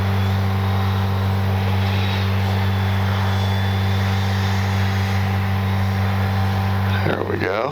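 A radio-controlled OV-10 Bronco scale model plane runs its engine with a loud, steady drone and strong harmonic hum, close by and continuous, shifting abruptly near the end.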